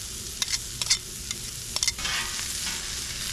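One medium onion sizzles on a hot griddle beside breakfast sausage, with a steady close frying hiss broken by a few sharp spatula scrapes and taps.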